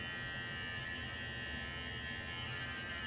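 A Remington MB7050 hair and beard trimmer buzzes in a steady, close, even electric drone that runs unbroken, with no talking over it.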